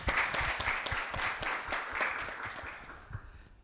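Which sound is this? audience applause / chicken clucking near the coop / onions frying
audience applause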